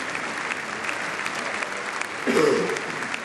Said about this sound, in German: Wurden die Hände hier zum Applaus gebracht.